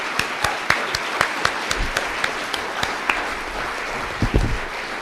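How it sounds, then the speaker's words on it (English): An audience at a 2018 county supervisor candidate forum in Humboldt County applauds both candidates, producing a steady wash of clapping with a few sharp individual claps standing out close by and some low murmuring. "let's give both candidates a round of applause"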